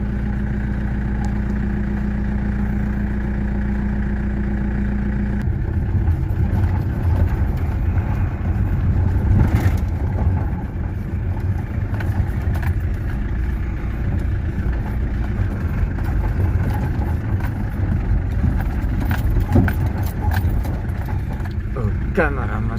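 Peugeot 404 with an XD3 diesel engine, driven out on a farm: a steady, loud, clattering diesel drone fills the recording throughout, shifting in tone partway as the car pulls away and moves along at low speed.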